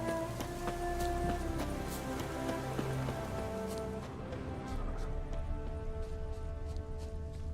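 Rain pattering in a video game as an even, moderately faint wash of drops, mixed with steady tonal background music that thins slightly near the end.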